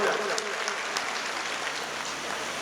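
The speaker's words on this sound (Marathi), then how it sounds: "सर्वांचं या दोही नेत्यांचं टाळ्या वाजून आपण या ठिकाणी स्वागत करूया" A crowd at a political rally claps steadily to welcome party leaders, a dense, sustained wash of applause with no gaps, fairly loud and close.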